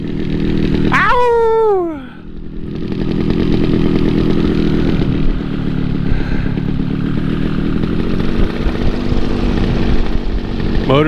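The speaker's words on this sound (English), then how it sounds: "Motor's running good." A paramotor engine drones loud and steady in flight over a beach in Navarre, Florida, a constant buzzing roar with rising and falling pitch, briefly joined at the start by a sharp whoop of a voice.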